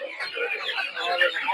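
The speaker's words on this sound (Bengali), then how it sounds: "প্রচুর পরিমাণে মিশরীয় ফার্মিং মুরগি দেখতে পাচ্ছেন।" Egyptian breed farm chickens clucking at a busy poultry market, a dense chatter of clucks and calls mixed with background crowd noise throughout.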